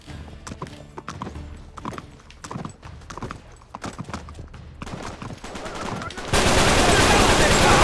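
Horse hooves clip-clop rhythmically in the video game Uncharted 3: Drake's Deception, mixed with bursts of gunfire, and loud noisy action swells at the end.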